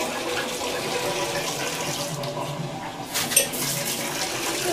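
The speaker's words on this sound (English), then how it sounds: "Soft. Shower." Shower water running steadily in a cheap hotel room bathroom in Logan, West Virginia, a continuous broadband hiss of spray that stays even throughout, with a brief splash or knock near the end.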